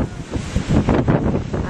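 Wind buffeting the microphone on a windy beach, with waves and surf rolling underneath as loud, steady rumbling gusts and no talking.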